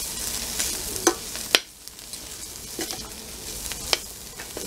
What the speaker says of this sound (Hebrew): ככה אני מערבבת